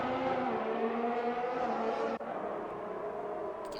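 Race car in a racing sim game powering out of a chicane in damp conditions after braking from around 191 mph, engine note rising steadily and loud, with a brief dip from a gearshift partway through.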